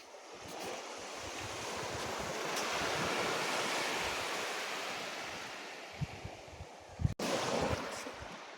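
Ocean waves wash steadily onto a beach with seaweed in the water, a broad continuous surf roar with wind buffeting the microphone and a few brief knocks near the end.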